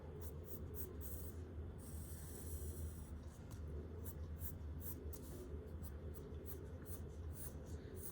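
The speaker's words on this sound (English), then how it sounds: "draw lines that curve towards that center point" A pencil sketches curved lines on paper in quick, light repeated strokes, a soft rhythmic scratching close by, with a person talking over it.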